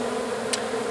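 A honey bee colony inside a speaker box hive gives off a steady, close, continuous hum with no voices over it.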